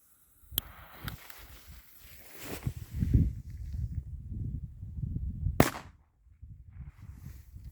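Two sharp bangs from Piromax RC3 firecrackers ring out a few seconds apart in a field, the second louder, each followed by a brief echo off a nearby forest over a low rumble of wind.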